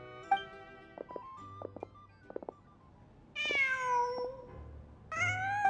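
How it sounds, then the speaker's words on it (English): A cat in the video game Genshin Impact meows several times, a few short calls followed by longer, louder drawn-out meows, clear and close over a quiet background. "Just a cat."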